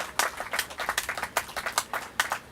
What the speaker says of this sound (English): yep, you can clap for that because that's a big deal.